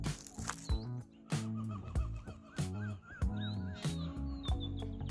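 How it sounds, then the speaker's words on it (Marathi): Peacocks call in a forest near Nashik, with several loud, harsh, honking cries repeating in quick bursts, some close and others farther off. "मोरांचा आवाज ऐका, ते आवाज करताय बघा"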